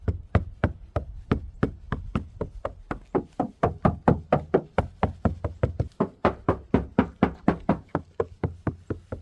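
Repeated knuckle knocks on Lexus GS350 door panels, some treated with butyl deadening and some bare, landing in a steady, even rhythm of about thirty close, sharp raps with no talking.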